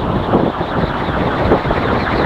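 Homemade axial flux wind turbine spinning on a pole outdoors, a steady loud whooshing, whirring drone with slow rhythmic swells, mixed with buffeting wind on the microphone.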